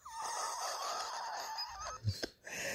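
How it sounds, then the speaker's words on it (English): Seagulls calling, a few harsh, honking cries close by over a faint hiss, with a sharp squawk near the end. "Seagulls."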